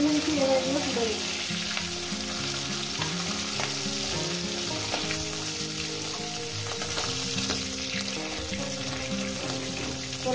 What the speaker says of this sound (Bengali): আমি মাছের মাথাগুলো আমি ভেজে নিয়েছি, এবার এগুলো তুলে নিচ্ছি